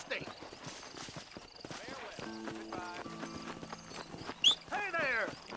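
Horse hooves clip-clopping with a sharp whinny in the Red Dead Redemption video game, close and moderately loud, mixed with game music and someone speaking.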